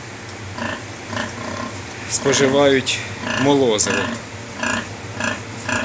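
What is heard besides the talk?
newborn piglets grunting while suckling sow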